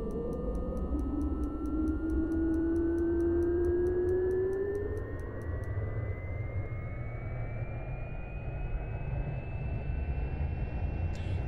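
A simulated PC-12 turboprop engine in X-Plane 11 hums and whines loudly, its pitch climbing slowly as it spools up, with a steady ticking in the background and no talk.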